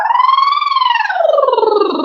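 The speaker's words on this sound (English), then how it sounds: "you want to do some bubble sirens" A singer does a lip-trill bubble siren vocal exercise, one continuous buzzing glide that rises, holds briefly and sweeps back down, loud and close with no other sound.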